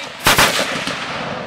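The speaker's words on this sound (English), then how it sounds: "Ooh, that recoiled pretty well that time. Okay, pretty good kick" A 76mm Whitworth cannon fires one loud, booming blast close by, followed by a long rumbling roll of echo that lingers for more than a second.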